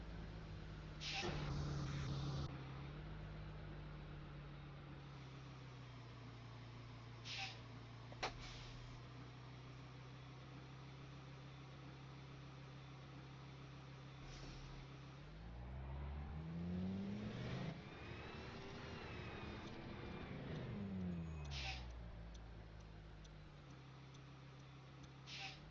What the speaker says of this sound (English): You guys want to see a school bus stop demonstration?